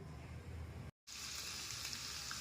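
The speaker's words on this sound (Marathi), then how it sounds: "तुम्ही इथे पाहू शकता, आपले लसूण आणि अद्रक चांगलं हे परतून झालं आहे" Grated garlic and ginger sautéing in hot oil for a momo chutney, a steady loud sizzle broken by a brief moment of silence before the frying hiss resumes, brighter and fuller.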